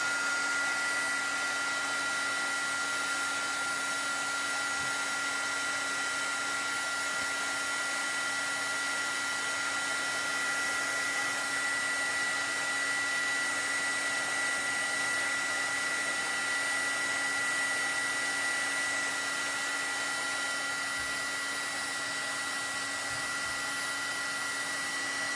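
A heat tool melts embossing powder on a greeting card, giving a continuous steady blowing whir with a fixed motor hum, close and constant throughout with no speech.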